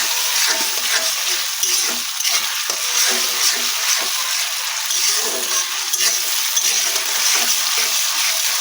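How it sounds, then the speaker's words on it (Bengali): Soaked Gobindobhog rice frying in hot mustard oil in a wok, a loud continuous close sizzle with crackling and occasional stirring scrapes, steady throughout with no voice. "এখানে 100 গ্রাম গোবিন্দভোগ চালকে আমি আগে থাকতে ধুয়ে ভিজিয়ে রেখেছিলাম, আর এই তেলের মধ্যে দিয়ে এটা ভেজে নিচ্ছি।"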